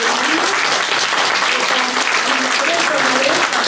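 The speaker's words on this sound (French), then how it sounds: "Madame Solange Herbès de la Tour, que je vous prie d'applaudir" Loud, dense audience applause for Solange Herbès de la Tour at a Paris exhibition evening, continuous and even with faint voices underneath.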